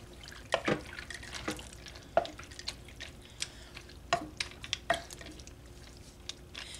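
A spoon stirs cubed butter into crockpot mac and cheese, making wet, sticky squelches and clinks in an irregular rhythm, close up and fairly quiet.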